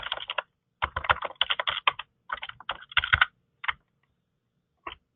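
Rapid bursts of typing on a computer keyboard, clustered into irregular runs of key clicks with short pauses between them, close and clear with no talking.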